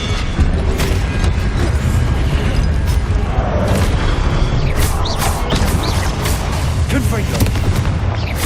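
Expelliarmus disarming spell in Hogwarts Legacy, heard amid a dense, continuous wash of booming combat effects, blasts and rapid crackling impacts with a voice speaking over the din.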